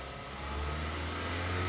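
The engine of a 2014 Honda CR-V runs at raised revs to cool its diesel particulate filter, a steady close engine drone that grows slightly louder.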